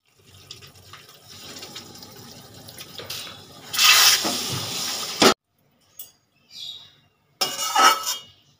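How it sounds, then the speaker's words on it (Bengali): A small amount of water pours into a pan of well-fried chicken and pointed gourd curry, a steady rushing splash for over a second, then two shorter pours after a brief pause. "এখানে আমি অল্প পরিমাণে জল দেব"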